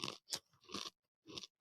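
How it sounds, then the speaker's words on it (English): Crisp, dry crunches of apple chips being bitten and chewed up close, in four short separate bursts with brief silences between them. "one of these apple chips just popped right out. I wonder if these are like crunchy."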